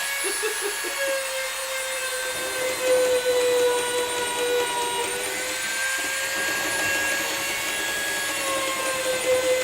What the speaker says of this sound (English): So can you guys hear the Dremel?